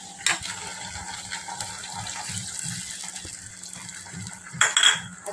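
Cornflour slurry is stirred into Manchurian gravy in a pan, a spoon scraping and clinking against the metal amid light liquid swishing, fairly quiet and continuous with a sharper clatter near the end.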